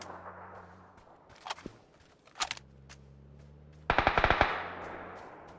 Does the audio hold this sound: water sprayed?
no